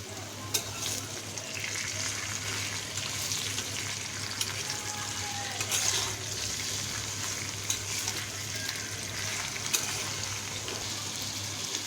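Boiled Malabar spinach and potatoes fry with dried chilli in a pan, giving a continuous dense sizzle for several seconds with occasional scraping stir clicks and no talking.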